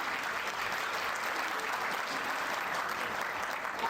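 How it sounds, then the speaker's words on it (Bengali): An audience at an anniversary celebration gives a steady, even round of applause, dense clapping heard from some distance that holds at a constant level throughout. "একটা হাততালি।"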